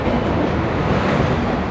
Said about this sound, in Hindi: 10 मिनट के डिले के साथ यहाँ पे दादर से भी डिपार्चर हो चुका है हमारी जनशताब्दी एक्सप्रेस का।